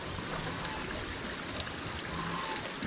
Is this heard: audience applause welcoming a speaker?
no